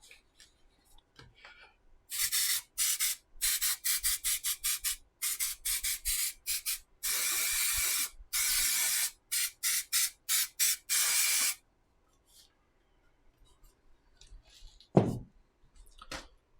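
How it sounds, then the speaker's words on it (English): A spray can hisses out a long series of bursts for making a Neptune model. Short sprays and a few longer sustained ones follow in an irregular rhythm, loud and close, then give way to quiet handling noises. "There's my spray."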